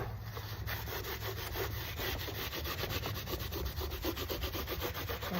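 A rag rubs aging wax off painted thrift-store furniture in steady, rapid back-and-forth strokes, a close, scratchy wiping sound with no voices.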